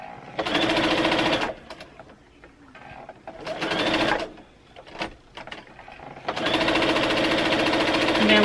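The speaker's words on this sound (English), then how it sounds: "I'm just going to sew off." A sewing machine stitches fabric scraps together into a quilt block, running in steady loud bursts separated by short pauses, with a faint voice in the gaps.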